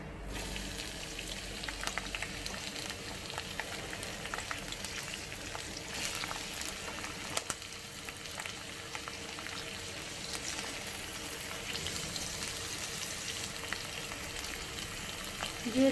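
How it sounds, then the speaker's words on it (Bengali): Whole garam masala and chopped onion crackle in hot oil for meat curry, giving a dense, steady sizzle and spatter that stays loud and even throughout, close up. "তো তেল গরম হয়ে গেছে এবার গোটা গরম মশলা ফোড়ন দিয়ে দেবো আর এই যে পেঁয়াজ কুচিটাও দিয়ে দেবো এর মধ্যে"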